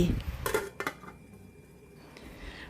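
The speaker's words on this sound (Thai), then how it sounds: "เสร็จแล้วก็ปิดฝานึ่งต่ออีก 5 นาที" A lid set down on a steamer pot while steaming Thai layered butterfly pea flower dessert, a couple of sharp metallic clanks close together, then quiet.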